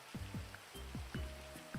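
Rain falls in a GTA V roleplay game world, heard as faint, steady patter with repeated hollow droplet plinks at a quiet, distant level and no talking.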